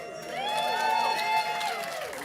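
Synagogue congregation at a Shabbat service cheering and whooping with a few claps, bright overlapping voices rising and falling near the front of the room, crowd sound alone without speech.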